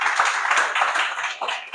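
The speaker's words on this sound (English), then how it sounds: "a round of applause for him." An audience at a live youth talk show claps for a guest, a short burst of scattered hand claps, fairly close and moderately loud, with a few individual sharp claps standing out.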